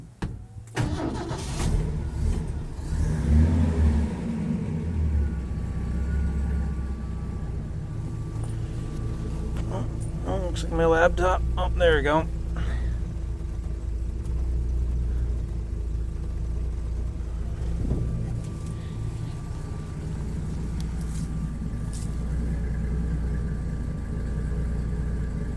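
Turbocharged Ford 300 inline-six cranks and fires, then settles into a steady, loud, rumbling idle that fills the rest of the clip, with a brief burst of speech near the start.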